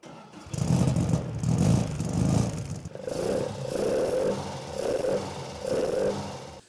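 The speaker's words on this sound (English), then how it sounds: "long ram pipes, they are having a lower frequency of the sound, and it's more kind of a throat sound" A car engine with Weber carburetors and long ram pipes revs in repeated surges, a deep throaty intake roar rising and falling in several pulses, close and loud with no talk.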